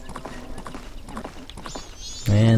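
Horse hooves clip-clop in the video game Majora's Mask, a steady run of hoof beats under game music and effects, ending with a louder, sustained tonal game sound.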